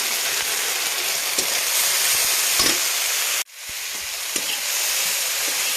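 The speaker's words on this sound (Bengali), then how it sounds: "পেঁয়াজটা ভাজা ভাজা হয়ে গেছে আদা জিরা বাটাটা দিয়ে দিলাম" Onion frying in a pan with ginger-cumin paste, turmeric and chilli powder, giving a steady close sizzle with faint stirring scrapes; the sizzle cuts out briefly midway, then resumes.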